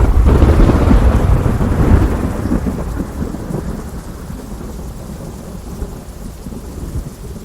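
A violent thunderstorm: a loud, rolling peal of thunder that slowly fades over steady heavy rain, no voices.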